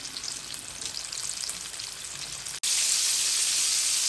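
Chicken strips fry in hot oil over a medium flame, a dense steady sizzle and crackle close up that jumps louder after a brief break, with no talking.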